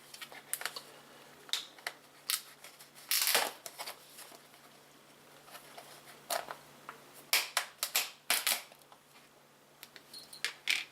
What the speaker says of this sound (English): Now let's go ahead and open up this bowl or this container.